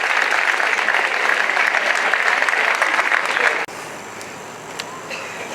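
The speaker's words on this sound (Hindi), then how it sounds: "और बच्चों आपकी तालियां बजती रहनी चाहिए।" Loud, sustained applause from a school audience at a Pariksha Pe Charcha 2023 event in Mandi, clapping steadily for students before cutting abruptly to a quieter hall.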